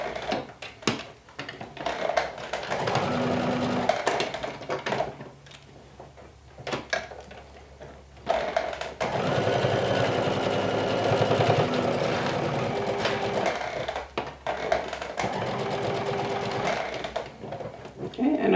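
A sewing machine runs in long stretches, stitching a hood lining near the collar of a lumberjack-style jacket, with brief pauses between runs and faint talk now and then.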